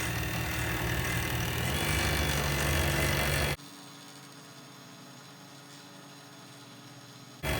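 A wood lathe spinning a pen blank at high speed, a loud steady whirring hum that cuts off abruptly partway through, leaving a quiet low hum.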